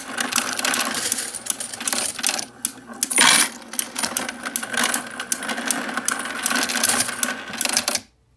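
A coin rolling machine counts quarters into a roll, a loud continuous mechanical whir packed with rapid clinking and rattling coins, briefly dipping midway before stopping abruptly near the end.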